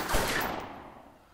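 A single loud gunshot from the gangster tactics game Omerta - City of Gangsters, a sharp crack with a reverberant tail that fades over about a second, heard alone.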